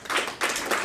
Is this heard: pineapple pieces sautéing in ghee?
no